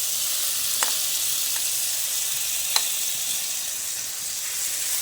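Spiced batter hitting hot mustard oil in a frying pan, giving a steady loud sizzle throughout with a couple of faint ticks and pops.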